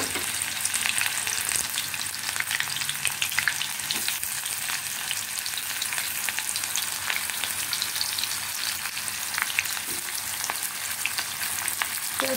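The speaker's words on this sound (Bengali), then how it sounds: "পেঁয়াজটা একটু সামান্য লাল লাল করে ভেজে নেব" Onion fries in hot oil with black cumin seeds in a wok, a dense, steady sizzle with crackling pops that continues loud and unbroken throughout, with no talking.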